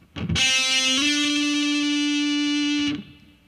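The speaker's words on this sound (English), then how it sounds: "This next technique is called a slide." A distorted electric guitar holds one loud note on the 3rd string that slides up in pitch partway through, sustains, then cuts off abruptly.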